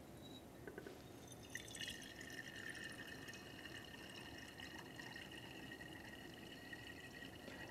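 Water layer draining from a separatory funnel into a container during a hexane–water extraction in a chemistry lab, a steady faint trickle with drips and a thin ringing splash in the collecting vessel, with no talking.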